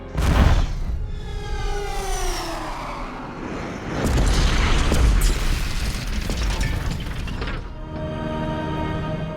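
A film scene of weapons aboard a ship blowing up, with deep booming blasts and rumbling debris swelling in two loud waves, plus a sharp whistling and ringing tone over the roar.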